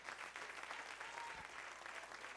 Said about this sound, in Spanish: Dale un aplauso al Rey de Reyes hoy.